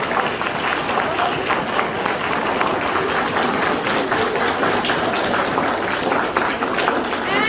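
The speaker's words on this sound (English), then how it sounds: "we should do a round of applause for Principal Ma'am" A workshop audience at a school gives a sustained round of applause, dense and even clapping from many hands in an indoor hall that holds steady throughout.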